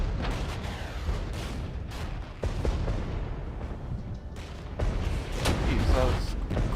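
Mortar and artillery fire in the Regiments real-time strategy game, a dense run of overlapping booms and distant blasts rolling one after another, with heavier impacts near the end and no speech.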